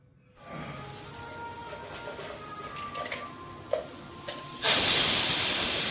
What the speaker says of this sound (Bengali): সিটি বেজে গেছে